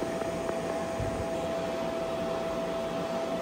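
A Hedgehog boot dryer running and blowing air, a steady close whooshing fan drone with a faint hum and a few small knocks early on, no voices.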